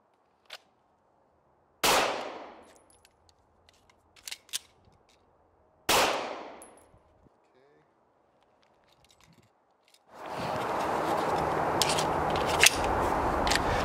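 Two sharp, loud pistol shots from a PSA Dagger ring out several seconds apart, each with a decaying tail, mixed with small clicks and handling noises. Steady broadband noise, like wind or an outdoor range, takes over near the end.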